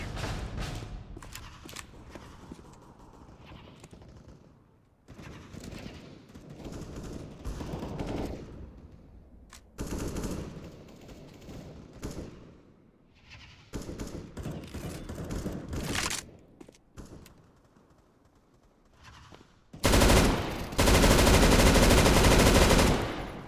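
Gunfire in Counter-Strike: Global Offensive rattles in rapid bursts and scattered single shots, broken by brief lulls and a harsh, loud burst near the end.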